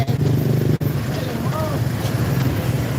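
A motorcycle rumbles steadily through heavy traffic heading into Naga City, its engine drone continuous and close with wind buffeting the microphone and a brief dropout early on.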